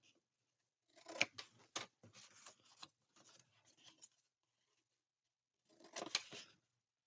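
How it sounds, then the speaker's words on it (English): Scissors miter-cutting paper for a photo frame album, close, crisp snipping in a few quick bursts of separate cuts, a pause, then one more short snip sequence in a quiet room. "take your scissors, miter cut right across where these 2 score lines intersect"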